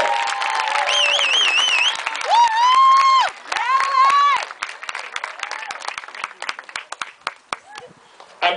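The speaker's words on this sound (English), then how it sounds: "a round of applause" A crowd claps and cheers for outstanding cadets at an honors ceremony, with loud whistles and shouts riding over the applause early on before it thins into scattered claps.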